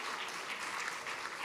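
An audience at a public library grand opening ceremony claps steadily for costumed book characters, a dense, even burst of applause with no distinct voices rising above it.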